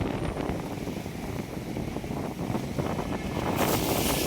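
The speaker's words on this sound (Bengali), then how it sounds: "দেখো কিরকম দোলা খাচ্ছে, জলগুলো আসছে দেখো কিরকম উঁচু হয়ে হয়ে আসছে।" Water waves rise and splash around a rocking boat, a continuous rough wash of surging water and wind buffeting close to the microphone, swelling louder toward the end.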